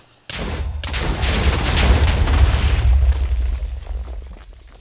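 A large explosion of combustible material in the modded Minecraft pack Crazy Craft, a sudden loud boom followed by a long, dense roaring rumble with crackling debris that slowly fades, with no talk over it.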